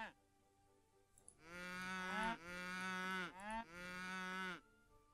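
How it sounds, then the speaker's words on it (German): A cow in Age of Empires III moos three times in a row, long, loud and close, with brief pauses between calls and quiet background otherwise. "Die Kuh."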